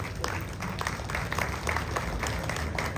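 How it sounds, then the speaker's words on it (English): An audience at a Ghana Journalists Association gathering breaks into a big round of applause, a dense, steady wash of many hands clapping that holds at an even level for the whole stretch. "Ambassador Cabral Blay Amihere, shall we do a big round of applause for him?"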